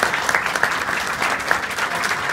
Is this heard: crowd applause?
yes